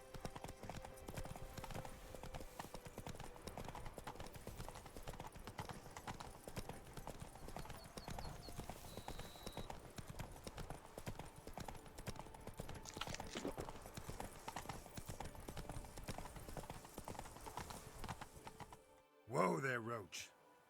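Roach, a horse in The Witcher 3, trots with steady, fairly faint hoof clip-clops under music and ambience, ending with a brief louder burst near the close.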